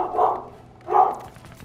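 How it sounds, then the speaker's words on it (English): A dog barks twice, two loud separate woofs roughly a second apart, close by in a room with a faint background hum. "Don't mind the dog."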